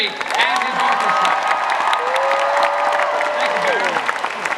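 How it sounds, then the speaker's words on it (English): Hall H audience at San Diego Comic-Con applauds and cheers for a series composer and his orchestra, a dense, steady wash of clapping with whoops and a long held shout, loud and continuous throughout. "how about a round of applause for series composer Bear McCreary and his orchestra."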